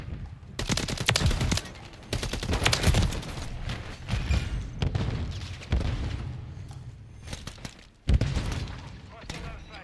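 Bursts of rapid automatic fire from a remote turret in Call of Duty Modern Warfare III, loud and close, arriving in several clusters with brief gaps and a sharp final salvo.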